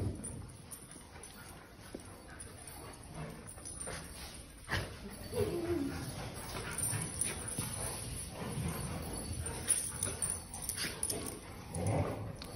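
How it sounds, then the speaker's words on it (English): Dogs bark in short bursts with occasional whimpers, mixed with outdoor rustling and scattered footsteps, some barks close and others farther off. "Got Holly over there barking."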